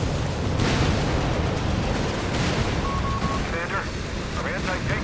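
88mm guns of King Tiger tanks and Flak 36 cannons firing in Company of Heroes 3: a thick din of heavy gun blasts and battle noise, partly buried under continuous talking.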